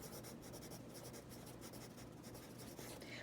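A pencil scratching across paper in continuous quick strokes, soft and close in a quiet room, with no voices.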